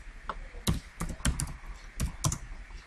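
Computer keyboard typing in short irregular bursts of clicky keystrokes, close up, with no voices.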